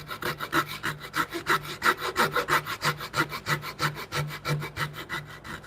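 Rhythmic back-and-forth strokes of a hand saw cutting through wood at an odd angle in a woodshop, steady and close, each pass a gritty rasp.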